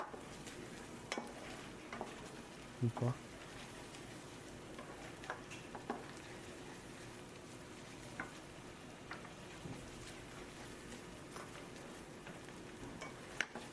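Fresh cream cooking down in a pan in a restaurant kitchen gives a soft, continuous low sizzle and bubbling, with scattered light ticks and a couple of utensil clinks against the pan.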